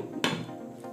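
A single metallic clank as a lid is set down on a pot of cooking mung bean soup, brief and close, followed by a faint ringing tail.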